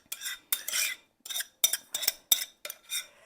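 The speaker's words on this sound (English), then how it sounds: "We're just going to put everything all together and mix it all up." A utensil stirs chocolate cherry muffin batter by hand in a bowl, eight or so quick scraping strokes in an uneven rhythm, close and clear with brief gaps between them.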